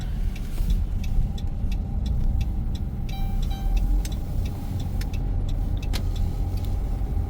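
A car drives along a road on the outskirts of Chrzanów in Poland, with a steady engine and tyre hum heard from inside and faint light jingling and clicks over the top.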